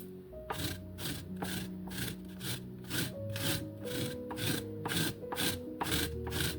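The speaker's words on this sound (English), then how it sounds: "you hold it horizontally over whatever container you're using, and then you grate your cheese, or in this case, I guess, lemon zest over the bowl" Lemon zest grated on a cheese grater held horizontally over a bowl, about a dozen rhythmic rasping strokes at an even pace, close up, over soft background music.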